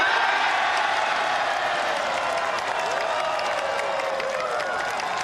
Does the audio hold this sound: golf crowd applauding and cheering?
yes